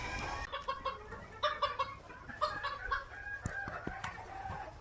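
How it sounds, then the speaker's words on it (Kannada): Native country chickens cluck and squawk in a close, busy flock at a village poultry spot, with overlapping calls and a few sharp cries. "ಈಗ ನಾಟಿ ಕೋಳಿ ಸೆಲೆಕ್ಷನ್ ಮಾಡಿಕೊಂಡು ತೊಗೊಂಡು ಹೋಗೋದೀಗ ಮನೆಗೆ."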